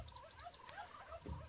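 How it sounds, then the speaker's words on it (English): Turkeys in a blocky building game give a short burst of synthetic gobbling, fairly quiet and alone, with a low thump near the end. "Yay, turkeys. They're so beautiful."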